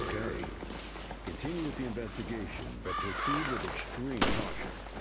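Repeated harsh crow caws from the video game Resident Evil Revelations sound in short bursts over game ambience, with a sharp bang near the end and someone talking over it.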